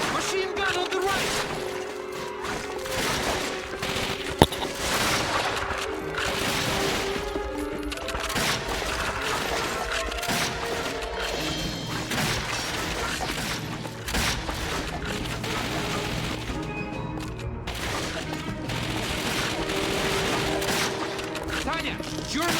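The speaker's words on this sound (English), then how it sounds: "Machine gun on the right." Sustained machine-gun fire in Call of Duty Finest Hour on the Eastern campaign, with dense crackling bursts, booms and battle clatter running continuously and loudly throughout.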